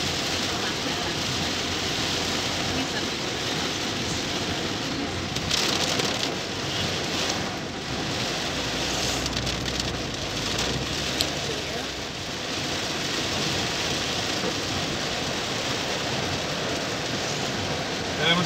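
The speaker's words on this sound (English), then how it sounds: "I'm recording the rain!" Heavy rain drums steadily on a car's roof and windshield while driving, a dense, loud wash of patter filling the whole stretch with small shifts in intensity and no clear talk over it.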